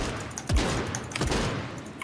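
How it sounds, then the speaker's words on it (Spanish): Gunfire in a Fortnite match, with a couple of quick shot bursts, faint under the game's background sound. "¿Por qué hay tantos ruidos de disparos?"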